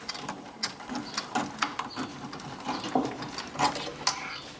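Mechanism of a 1993 tape deck clicking and whirring as it moves, with a series of faint, irregular mechanical ticks and ratchety clicks close by and nobody speaking.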